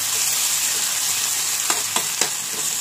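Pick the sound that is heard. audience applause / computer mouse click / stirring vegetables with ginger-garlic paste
stirring vegetables with ginger-garlic paste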